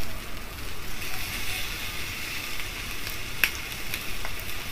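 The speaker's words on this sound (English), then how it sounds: "I want to get that bacon cooked real good" Bacon fries in a pan with a dense, even crackling sizzle that holds steady throughout, with one brief sharp clink near the end.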